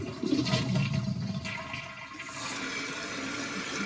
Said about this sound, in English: Should we try a flush?